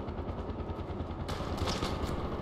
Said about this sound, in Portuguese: Olha o tiro, galera.